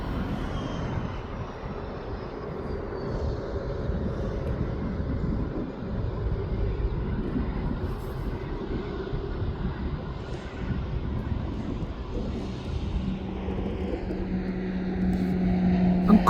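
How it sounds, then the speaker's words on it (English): A Beechcraft aircraft approaches to land at East Midlands Airport, its engine a steady low drone that slowly builds louder toward the end against a background of distant airport rumble. "Here comes that Beechcraft that's coming in behind"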